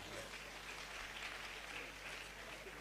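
Audience applause at a pharmacy graduating students' induction ceremony, steady dense clapping that sounds faint and distant throughout, with a low hum beneath.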